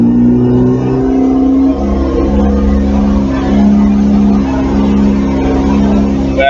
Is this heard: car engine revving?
yes